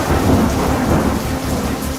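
Heavy monsoon downpour in Madhya Pradesh with thunder, a dense, loud, continuous roar of rain on surfaces and a low rumble underneath, with no voices.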